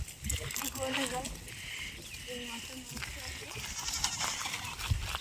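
A goat bleats several times in a village setting, wavering calls layered under steady talk and rustling outdoor noise.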